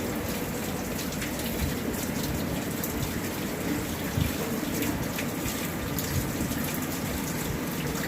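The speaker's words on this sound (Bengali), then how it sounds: "প্রচুর পরিমাণে বেড়েছে বৃষ্টি" Heavy rain driven by Cyclone Remal falls with some wind, a close, constant hissing downpour with scattered drips and splashes, and no speech.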